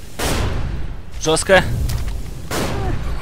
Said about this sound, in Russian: как там взрывается все